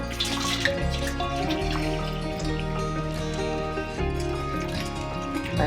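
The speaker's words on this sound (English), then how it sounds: "take the boiling water" Boiling water poured from a kettle into a baking pan on the lower oven rack, making a steady continuous splashing pour for several seconds with a low hum behind it and no talk.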